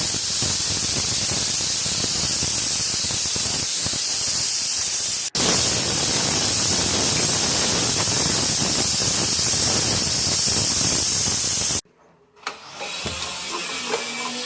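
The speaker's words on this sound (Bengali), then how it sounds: "দিয়ে সিটিটা আটকিয়ে 4 থেকে 5টা সিটি দিলেই ব্যাস।" A pressure cooker whistle releasing steam in a home kitchen during cooking, a loud continuous hiss running unbroken for about twelve seconds with a brief dip partway, then cutting off abruptly to quiet.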